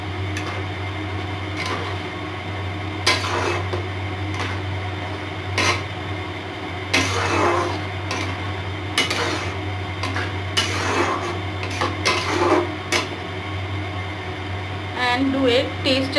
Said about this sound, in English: we add the fried oats to it. And we mix it well.